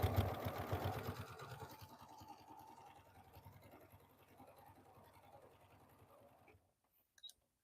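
A sewing machine runs a fast, steady stitch along a denim corset dress seam, a rapid mechanical chatter that starts loud and gradually eases before stopping, followed by a brief click.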